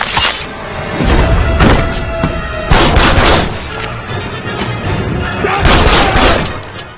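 Gunshots in the Fear Street film, several loud booming blasts in quick clusters with a heavy, echoing tail, set against dense film sound and effects.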